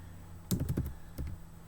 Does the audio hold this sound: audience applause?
no